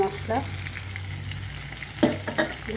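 Ginger and tomato with spices fry and get stirred in a pan, giving a steady sizzle broken by scraping spatula strokes and a couple of louder clatters near the end.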